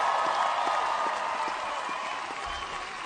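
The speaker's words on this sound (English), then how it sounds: "give them a round of applause" Crowd applause fills a Bernie Sanders town hall in Appleton, Wisconsin, a broad, steady wash of many hands that holds loud for the full stretch and eases off slightly toward the end.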